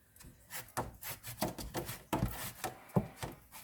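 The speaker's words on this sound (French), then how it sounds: "je pense que j'ai mon voisin qui est en train de poncer" Outdoor sanding by a neighbour, heard as a series of rough, rasping strokes in an uneven rhythm, moderately distant and fairly faint, with no talk over it.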